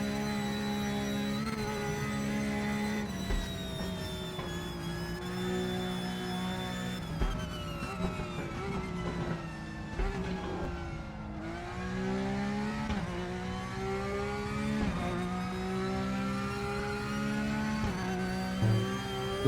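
Porsche Cup race car in a sim racing game, engine revving hard and accelerating with rising harmonic sweeps, a brief dip and lift around a corner, then winding back up, loud and steady throughout.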